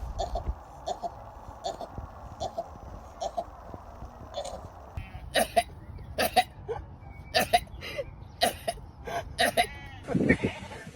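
Animated sheep letting out a run of short, sharp sneezes and bleat-like bursts, spaced irregularly and growing more frequent toward the end, heard close and fairly loud over a soft background.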